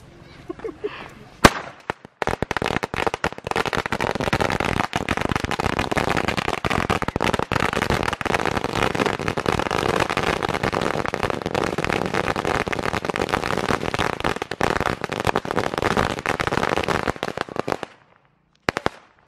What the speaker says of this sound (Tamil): சும்மா சின்ன பட்டாசு, சும்மா சடப்பட சடப்படும்.